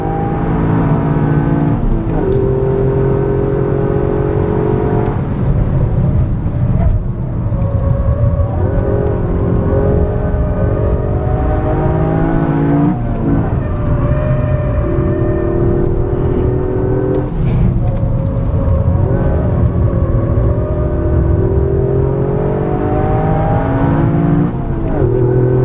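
An all-wheel-drive Toyota Yaris race car driven hard by a racing driver, its engine loud and close, climbing through the revs, dropping sharply at gear changes and climbing again, a steady roar throughout.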